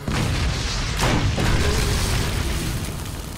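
A grenade round blast in the Resident Evil HD video game, a loud, dense boom that holds steady with a swell around the middle, then trails off as a rumbling tail.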